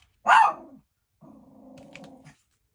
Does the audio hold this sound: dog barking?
yes